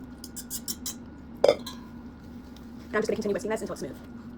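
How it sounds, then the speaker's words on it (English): A whisk clinks and scrapes against a bowl of batter in a couple of short bursts over a steady low background hum. "And I'm just going to continue whisking this until it's smooth."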